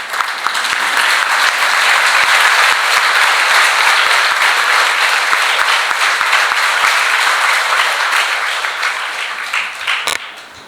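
Loud, sustained applause from a large group of school students on their feet, dense clapping filling the whole stretch and tapering slightly near the end.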